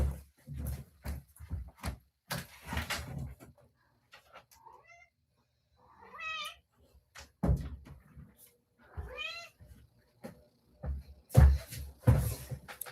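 A cat meowing to be let in, several drawn-out rising and falling meows spaced between clattering door and cupboard bangs, heard nearby in a quiet room.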